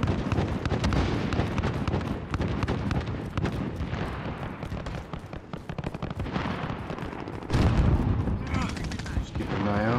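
Rapid bursts of automatic gunfire and explosive blasts from the video game Call of Duty: Modern Warfare, fighting in the Tavorsk District with a tank nearby, crackling densely and loudly throughout with a heavier blast near the end.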